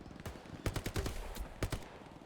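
Machine gun fire in the World War II shooter Hell Let Loose, an MG in a bunker letting off short rapid bursts of sharp cracks in uneven groups, moderately loud and fairly close.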